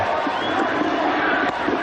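Cricket crowd in a packed stadium roaring steadily in celebration of a six during a semifinal, a dense, loud wall of cheering with no break.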